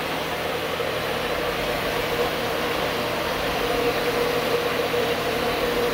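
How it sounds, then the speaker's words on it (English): A CRB floor scrubbing machine runs over dirty slate tile and grout with a steady, close motor drone and broad grinding hum, continuous and unbroken throughout. "I'm going to run the CRB over it."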